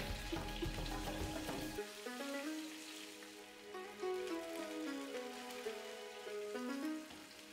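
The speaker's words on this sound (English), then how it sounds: "Heat some coconut oil, fry a few curry leaves, then add the snacks and shallow fry." Snacks shallow frying in hot coconut oil with curry leaves, a steady close sizzle and crackle that runs throughout, over a bed of background music, with no talking.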